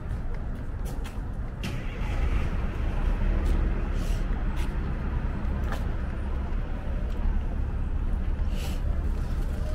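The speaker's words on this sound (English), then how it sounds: "The bus that just started its engine is going to go all the way to Sheepshead Bay on the waterfront" A city bus starts up on a New York street beneath the elevated J and M train line, its deep engine rumble loud and steady for about ten seconds amid surrounding traffic noise.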